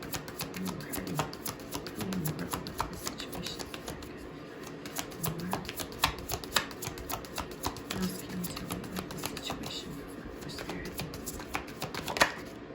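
Tarot cards being shuffled by hand in a steady run of quick papery riffles and flicks, close and moderately loud, continuing for the whole stretch.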